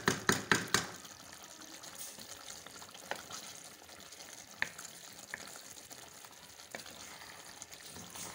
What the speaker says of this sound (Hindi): तो अब हम लोग इसको मम्मा भूनेंगे क्या ताकि इसका जो ऑयल है वो आ जाए बाहर